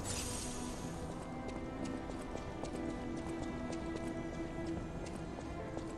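Horse hooves clop in a steady rapid rhythm in the video game Lies of P, a continuous galloping patter set against a low game ambience, moderately loud and with no voices.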